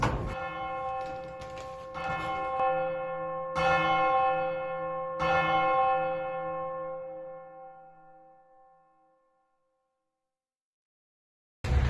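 Village church bells ring out in a few slow, widely spaced strikes, each leaving a long resonant hum that fades to silence before a final brief sound at the very end.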